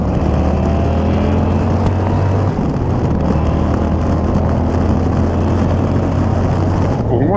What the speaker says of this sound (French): l'échappement il est vraiment pas démonstratif du tout